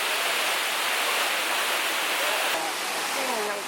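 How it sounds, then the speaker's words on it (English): A waterfall in Luang Prabang, Laos roars as a steady, dense wash of falling water, close and continuous throughout, with faint voices briefly audible near the end. "Waterfall in Luang Prabang. It is so stunning."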